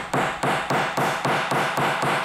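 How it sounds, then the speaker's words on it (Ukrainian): A hammer drives nails into a coffin lid: eight sharp, evenly spaced blows about a third of a second apart, close and loud, each ringing briefly before the next, with nothing else audible. "Сейчас крышку гроба забьют гвоздями."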